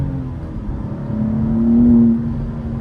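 A manual 2024 BMW M2 with the S58 engine accelerating hard, its rising engine note swelling to a peak near the end before easing slightly, loud and close with no talking.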